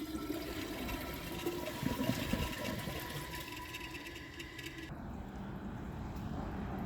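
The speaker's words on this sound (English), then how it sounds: "I'm going to be back right after I clog the siphon jet, and I'm going to try and see how it flushes like that" A Jacuzzi Perfecta toilet with a clogged siphon jet flushes with a steady rushing gurgle of water. The flow shifts partway through, then settles into a quieter refilling hiss, all close by with no talk.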